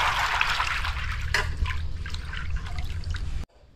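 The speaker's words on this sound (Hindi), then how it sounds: "अब इसको हम धो लेते हैं साफ पानी से" Soaked home-grown chickpeas are rinsed in clean water, giving a steady close sloshing and trickling with a few sharper splashes before the water sound cuts off abruptly.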